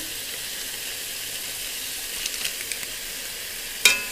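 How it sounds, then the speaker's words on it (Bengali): Chicken sautéing in a pan with chicken masala gives a steady, even sizzle, with a few faint stirring clicks and one sharp scrape of the utensil near the end. "চিকেনটাকে কষাচ্ছি"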